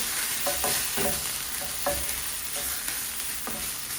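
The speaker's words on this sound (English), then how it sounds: "Cook those shrimp down." Shrimp cooking down in a pan with a splash of water, a continuous hissing sizzle with a few soft rhythmic stirring scrapes, close and steady, no voices.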